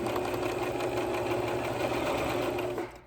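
A sewing machine stitches a quarter-inch lining seam on a fabric face mask, a close, steady mechanical whirring hum running continuously before cutting off at the end.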